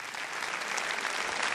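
Audience at a fashion show event in Sulmona applauds for Ivan Giampietro, a steady, full wash of clapping from many people, even and sustained throughout.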